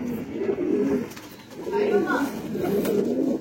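A large pigeon coos in repeated low, rolling phrases, three soft cooing bouts close by, with faint background noise between them.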